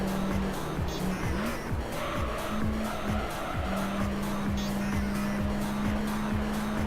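A race car in Gran Turismo 3 drives with a steady engine drone while tires squeal in repeated short skids and one longer slide near the end, close and continuous.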